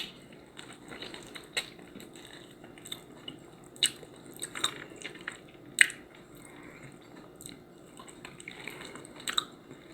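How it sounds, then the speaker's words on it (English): Close, wet chewing and biting on microwave-dinner ribs, with irregular smacks, squishes and small crunches spread through the quiet. "I'm ready to eat and tear these ribs up."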